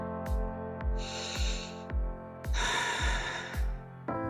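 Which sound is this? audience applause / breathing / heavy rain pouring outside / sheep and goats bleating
breathing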